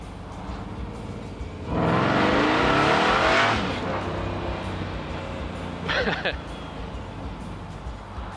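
A 700-horsepower supercharged 1955 Chevrolet Bel Air engine revs up hard with a rising, roaring surge that holds for a couple of seconds, then eases off into a steady drone with a brief second blip.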